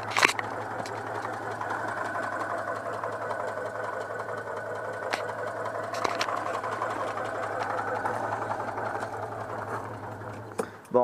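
A Citroën 2CV6 air-cooled twin idles just after starting, a steady close mechanical chatter with a low hum and a few sharp clicks, running evenly throughout.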